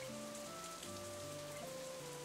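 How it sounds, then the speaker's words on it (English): Steady, soft rain falls in the visual novel game Katawa Shoujo, a quiet, even patter lying beneath gentle sustained background music tones. "It's as if she doesn't even notice the rain drenching her shirt."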